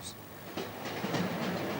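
A Chinese passenger train rolls along the rails, giving a soft, steady rumble with faint rhythmic clatter and hiss that builds slightly, heard at a low level without speech.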